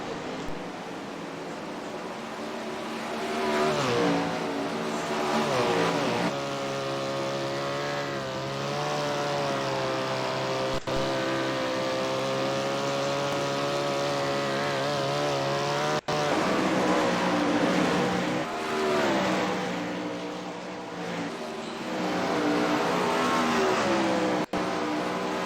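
A damaged sprint car's racing engine at Eldora in the World of Outlaws video game drones steadily and loudly, its pitch rising and falling with throttle over about twenty-five seconds, with no talk.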